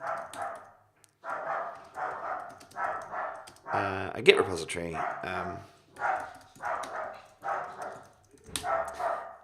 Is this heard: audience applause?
no